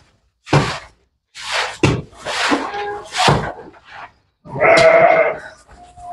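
Garut sheep bleat in a farm pen with several separate nearby calls, some short and some drawn out, set apart by short silences. A faint thunk can be heard between the calls.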